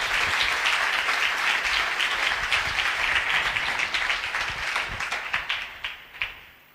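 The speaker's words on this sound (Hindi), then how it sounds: "आओ मुकद्दसा मरियम की शान में तालियां बजाएं जोरदार" A church congregation claps loudly in honour of Holy Mary, a dense sustained ovation that gradually thins into scattered individual claps before fading out.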